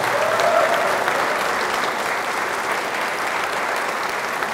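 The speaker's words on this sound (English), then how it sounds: "This man deserves a round of applause." Audience applause at a HUD press conference for a Durfee Central community remodeling project: a steady, dense wash of clapping from many hands, sustained and fairly loud throughout with no voices over it.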